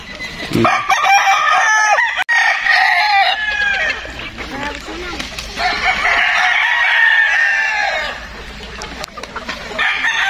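Young roosters (stags) at a game farm crow loudly and repeatedly, several birds overlapping in long drawn-out calls with some clucking in between, close and prominent.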